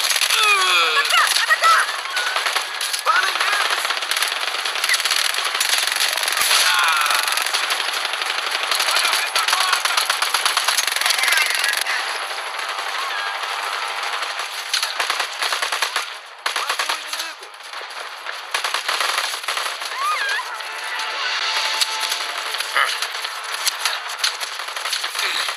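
Rapid, sustained gunfire in the video game Just Cause 4, bursts of automatic fire crackling densely and loudly through most of the stretch, easing slightly in the second half, with occasional voices mixed in.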